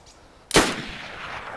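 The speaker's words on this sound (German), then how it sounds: "Ich sehe nur, wie der Schuss hinten einschlägt." A single loud gunshot rings out in the DayZ video game, a sharp crack with a short reverberating tail after a quiet moment.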